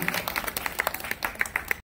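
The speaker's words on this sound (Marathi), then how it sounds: "जोरदार टाळ्या वाजवायचे आणि टाळ्या वाजवायचे जोरात" An audience at a school ceremony marking Maharashtra Day claps in a brief, lively burst of applause, many hands beating together loudly and close, ending abruptly.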